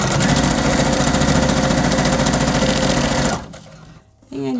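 A sewing machine runs a straight stitch through fabric scraps for a journal cover, a steady fast mechanical whir that stops near the end, followed by brief talk.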